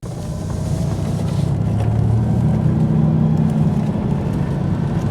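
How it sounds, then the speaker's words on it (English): A 1996 truck on a cold-weather road test after a new fan clutch was fitted, its engine and slipping fan giving a steady, loud low drone and road rumble that swells slightly midway and holds throughout. "you just heard right there, the fan clutch slipped, and it should, because it's cold outside"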